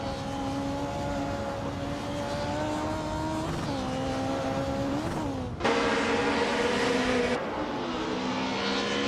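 1990 Mercedes 190E Evo 2 racing in a video game, a steady high engine whine that climbs through the revs, drops briefly with a gear change, then surges louder and shifts again.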